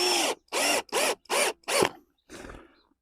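Five short, loud bursts of a power drill driving screws into a fence batten in quick succession, each stopping abruptly, followed by a fainter rattling spin close by.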